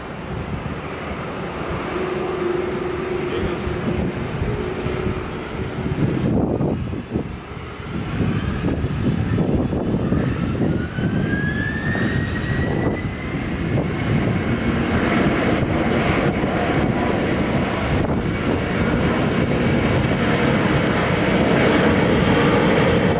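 A McDonnell Douglas MD-11 jet with Pratt & Whitney engines takes off at Sky Harbor International Airport, producing a loud, sustained roar that swells and rumbles for the whole stretch, with a rising whine partway through.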